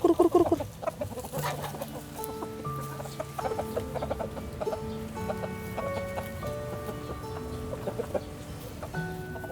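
A flock of chickens clucks in a busy, overlapping chorus close by, with short repeated calls from several birds on a farm or backyard.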